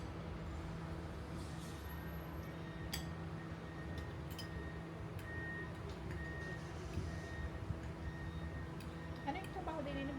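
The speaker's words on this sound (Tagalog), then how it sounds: "Sa ingay naman ito." Busy street traffic with many vehicles passing in a continuous, dense roar, with occasional faint beeps and a background voice.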